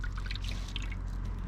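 Water gurgles and trickles through the roof drain of a Range Rover L405, a close, steady flow with small bubbling pops throughout, no speech.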